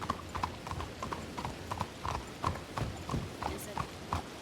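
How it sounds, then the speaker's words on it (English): A horse's hooves clip-clop outside in a steady, rhythmic walking pattern, moderately close and fairly quiet. "That's my horse out front."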